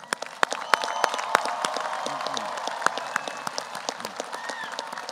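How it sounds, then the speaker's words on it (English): A stadium audience at the 2022 Hutto High School graduation claps and cheers for parents and loved ones, a steady wash of applause with sharp individual claps and whoops standing out near the microphone. "let's give a huge round of applause to your parents and your loved ones."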